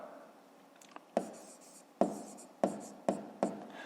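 Pen writing by hand on paper while working a grade 5 math exercise, a series of short scratchy strokes and taps arriving in quick, irregular bursts, close and fairly quiet with no talk.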